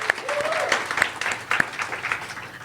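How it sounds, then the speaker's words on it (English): A crowd at the inaugural IndiXspark event applauds Neha and Asha with steady, dense clapping for nearly three seconds. A few sharper claps and a faint whistle-like tone rise above it. "Let's give them a big round of applause."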